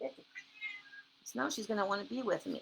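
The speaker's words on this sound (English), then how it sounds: "She's a good cat." Female pet house cat meowing softly a few times up close indoors, short drawn-out cries interleaved with someone talking over them.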